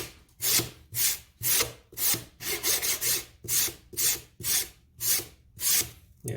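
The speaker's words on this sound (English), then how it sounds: "I'm just sanding the edges I just cut just to make it something remotely pretty." Cut edges of half-inch EVA foam being sanded by hand for a Begode Master wheel pad baseplate, heard as about ten rhythmic, close scraping strokes with short pauses between them.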